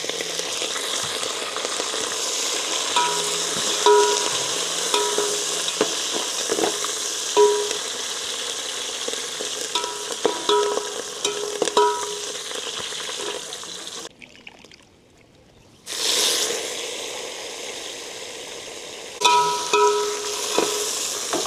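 Curry leaves and herbs frying in hot oil, a continuous close sizzle with stirring clatter, broken by a short silence before the crackle resumes.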